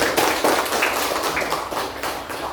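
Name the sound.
applause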